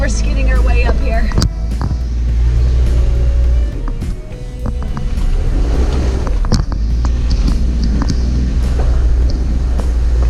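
A vehicle strains up a muddy hillside with a loud, rumbling engine drone and wind buffeting the microphone, as people talk throughout.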